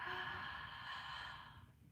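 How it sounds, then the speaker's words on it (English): One long, deep breath is drawn through an open mouth in yoga pranayama practice, a close, breathy rush that holds steady and then tails off, heard alone without talk. "So big deep inhale,"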